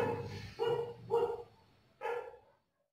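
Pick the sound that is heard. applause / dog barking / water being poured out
dog barking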